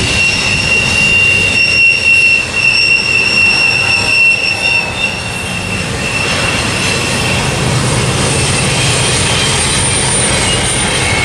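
A westbound freight train led by an AC locomotive rolls past at Cajon Pass, loud and close, with a constant roar of wheels and high, sustained wheel squeal running throughout; no voices.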